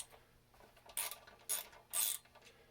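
A ratchet loosens 6mm front brake rotor bolts on a 2000 Yamaha Roadstar Silverado 1600 motorcycle, giving three short, quiet bursts of clicking separated by brief pauses.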